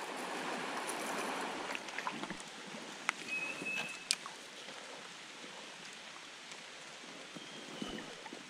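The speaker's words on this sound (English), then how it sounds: "A little bit of rain." A light rain shower patters steadily on a freshwater river in Northern Australia, a soft continuous hiss of drops on water with a few faint knocks, fairly quiet and with no talking.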